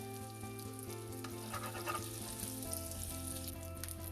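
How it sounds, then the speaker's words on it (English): Butter sizzling and melting in a hot pan while cooking masala idli, a steady soft frying crackle throughout with faint kitchen hum underneath, no talking. "So now let's heat the pan, add little butter to this."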